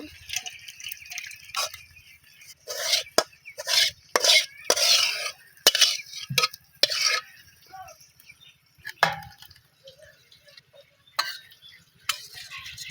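Cooked hilsa fish and cucumber curry is scraped and poured from a pot into a bowl in a village kitchen, with irregular clinks and scrapes of a spoon against metal between quiet pauses.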